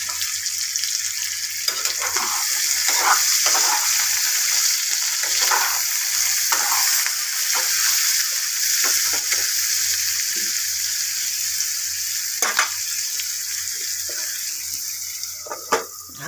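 Potatoes with onion and chili fry in a pan with a constant bright sizzle, broken now and then by the scrape and clink of stirring. No voices can be heard.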